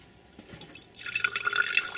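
A separated oil mixture is poured from a container, a thin trickling stream that starts faint and grows into steady liquid splashing, close and alone.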